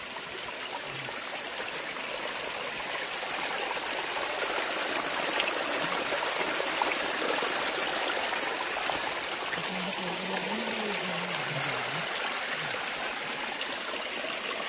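A small forest stream flows steadily at Kia Jhar, a broadband rush and trickle of water that holds constant throughout, with a faint low voice murmuring briefly in the background.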